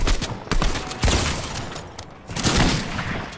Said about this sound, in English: I'm gonna bait a mini and then I'm gonna go for a pump shot.